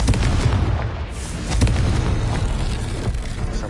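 A loud booming blast rolls on for several seconds when a Confringo fire spell goes off in the Hogwarts Legacy video game, with a dense rumbling roar and no speech.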